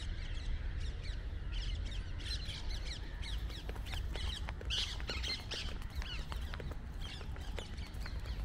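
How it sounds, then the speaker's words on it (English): Parrots squawk and call repeatedly at a middle distance over an outdoor lake at sunset in Dubai, harsh sharp cries scattered across a steady background hum. "There's a lot of parrots flying around as well."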